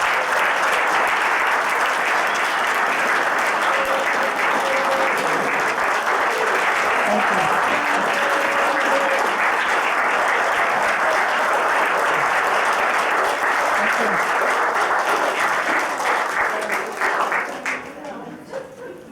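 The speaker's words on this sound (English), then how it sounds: "they deserve the best round of applause we can give them" Sustained, loud applause from a large audience at an organization's meeting, a dense wash of clapping that holds steady before tapering off at the end.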